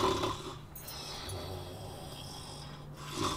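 Snoring from a sleeper behind a just-opened door in a fantasy tabletop role-playing game, a steady, continuous rasping drone of breathing that holds at moderate loudness for a few seconds with no talking.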